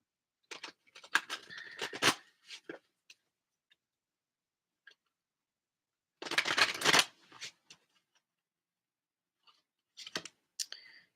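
Tarot of Mystical Moments cards are shuffled close up in short papery bursts of riffling and flicking, split by long silent gaps, with a few soft taps and clicks between them.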